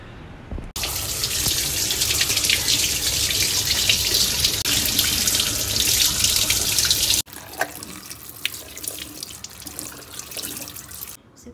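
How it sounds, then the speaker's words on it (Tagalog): Tap water runs hard into a sink while fruit such as jackfruit, strawberries and mango is washed, a loud steady splashing rush that stops abruptly, leaving quieter drips and handling sounds. "hugasan natin lahat ng fruits para malinis siya."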